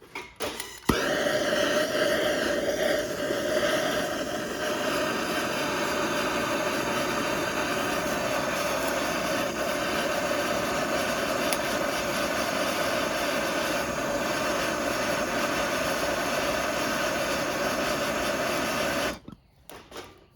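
A MAPP gas torch roars steadily into twigs packed inside a beekeeper's smoker, a continuous loud hissing rush that starts abruptly with a click, holds for about eighteen seconds, then cuts off sharply.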